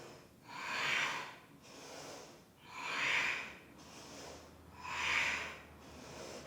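Slow, deep breathing during a vinyasa yoga plank sequence, three long airy swells of inhaling and exhaling in an even rhythm, close and fairly soft, with no talking.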